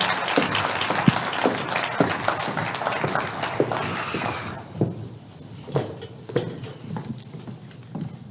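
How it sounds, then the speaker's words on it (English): Audience at a TEDx public event applauding, dense clapping for several seconds that thins out into scattered individual claps toward the end, moderately close and with no speech over it. "One more round of applause, please."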